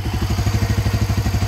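A Barako 175 motorcycle with a converted 6-speed gearbox idles close by, a loud, even thumping single-cylinder putter pulsing rapidly and steadily, with no talk.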